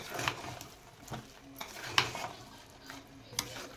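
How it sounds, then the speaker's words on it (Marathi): Cooked dal puran being stirred in a pan over a medium gas flame, with spoon scrapes and clinks against the metal roughly every half second to second over a faint sizzle. "असं हे चांगलं हलवत राहायचं, म्हणजे आपलं पुरण कोरडं होत राहणार."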